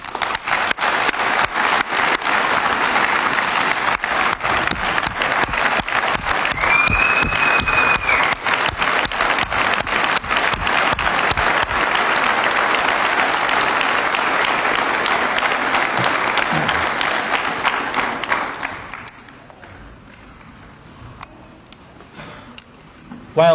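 Sustained audience applause for teachers at a city State of the City address, a dense, loud wash of many hands clapping for about nineteen seconds before fading quickly into quiet room sound.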